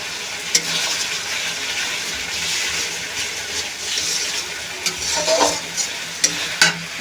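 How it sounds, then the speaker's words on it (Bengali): Spice masala for a spicy tomato rohu fish curry is stir-fried in oil, a dense steady sizzle close up with occasional sharp scraping clicks of the spatula toward the end, no talk. "ভালো করে মশলাটা কষিয়ে নিচ্ছি"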